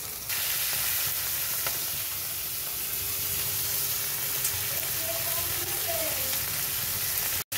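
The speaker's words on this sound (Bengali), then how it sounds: "পুরোপুরি মশলাটা দিয়ে আমি ভেজে নিচ্ছি।" Fish masala spices frying in a pan, a loud continuous sizzle and hiss with faint stirring, steady throughout before a brief cut near the end.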